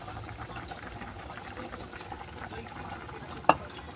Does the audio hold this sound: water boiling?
yes